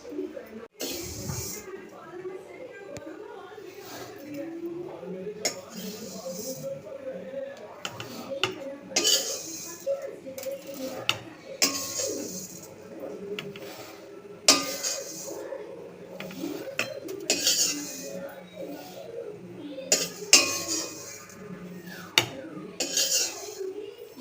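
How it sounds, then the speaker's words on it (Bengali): Moong dal frying in a pan for khichuri, a soft sizzle broken by frequent metallic scrapes and clinks of a spoon stirring against the pan, close and fairly quiet. "এবার মুগ ডালটা ভেজে নিচ্ছি আমি।"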